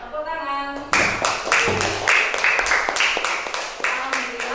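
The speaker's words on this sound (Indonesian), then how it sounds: "Ya, tepuk tangan." Children in an Indonesian classroom clap their hands together in a steady run of sharp, fairly loud claps for about four seconds, following a brief spoken lead-in from the teacher.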